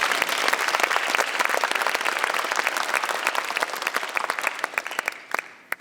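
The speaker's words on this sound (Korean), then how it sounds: "두 분께 다시 한번 큰 박수를 좀 부탁드리겠습니다." Sustained, dense applause from a large audience at a Jeonbuk National University degree-conferral ceremony, loud and steady throughout before thinning out in the final moments.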